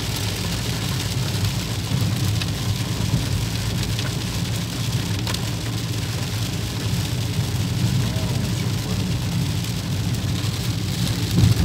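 Very heavy rain pours down in a steady, dense hiss that stays even and loud throughout, with a low rumble underneath.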